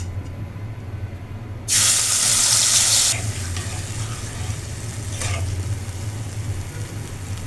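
Wet batter dropped into hot oil for a river sand-goby fish curry bursts into a loud, bright sizzle for about a second and a half, then settles into a quieter crackle with a brief flare later, over a steady low hum.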